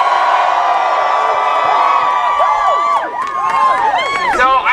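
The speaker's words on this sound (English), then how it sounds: "Can I get a cheer?" Crowd at a post-secondary education rally in Edmonton cheering and whooping, loud sustained shouts with rising and falling whistles and cries layered over one another, close and energetic.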